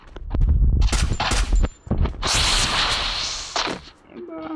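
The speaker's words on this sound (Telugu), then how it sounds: "నా స్నైపర్ అలవాటు అయిపోయింది బాగా మనకి" Sniper rifle shots and other gunfire ring out in the Free Fire battle game, several sharp loud cracks in the first seconds followed by a long whooshing, hissing burst, all close and forward.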